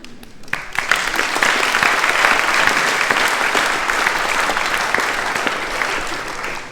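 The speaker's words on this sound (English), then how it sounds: "when everyone claps, it sounds good" Audience clapping in a debating chamber at a Cambridge Union debate: a full room bursts into dense, sustained applause that swells quickly and holds steady for several seconds with scattered crowd noise.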